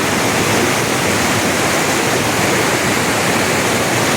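San Telmohan Falls in Barangay Caminto, Leyte, pours as a loud, constant, close rush of falling water, a dense broadband roar without a break and with no voices.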